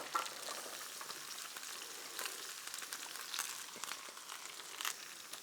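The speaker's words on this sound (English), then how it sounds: "Now we're going to go ahead and add our mirepoix to that." Diced mirepoix vegetables sizzle in a hot pan with browned braised oxtail, a steady close crackling fry with small stirring and shifting noises throughout, no talk.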